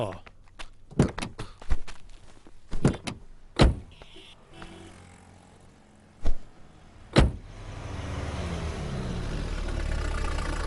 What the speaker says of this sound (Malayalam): വണ്ടി എടുക്കൂ.